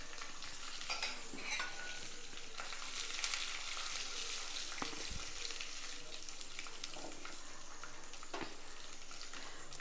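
Curry leaves and dried red chillies fry in hot oil with a dense, steady sizzle, broken by a few sharp pops and crackles, close and without voices.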